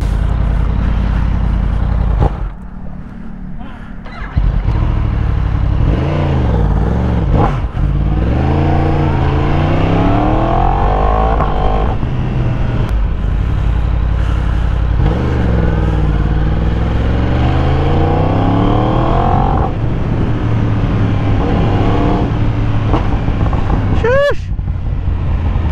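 A Yamaha R1 superbike engine rising through repeated throttle sweeps at night, loud and close, with climbing and falling revs under intermittent talk.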